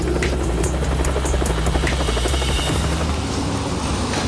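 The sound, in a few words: helicopter landing on a jack-up barge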